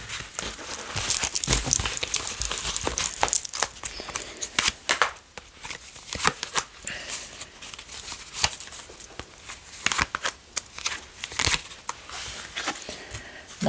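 Tarot cards laid down and covered on a table make close, crisp taps, slaps and papery rustles in irregular bursts, with no talking.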